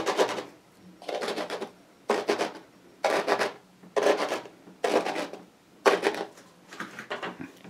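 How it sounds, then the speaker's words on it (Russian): Rhythmic rustling and rasping, like fingers sweeping through poppy seeds, in about eight regular strokes with short pauses between them. "Так интересно шуршит мак."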